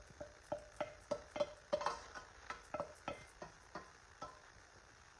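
Meat for a polenta pie being spread into the bottom of a casserole pan, a series of soft scraping and tapping strokes with a utensil, about a dozen close knocks in an irregular rhythm, with no talking.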